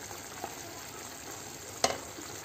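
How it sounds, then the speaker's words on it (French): A sauce simmering with coriander in a pan on a gas stove gives off a faint steady sizzle, broken by one soft stir and then a brief sharper scrape of a utensil, with no talking. "j'ai rajouté ma coriandre, je vais remuer un peu et je vais laisser mijoter sur le gaz derrière"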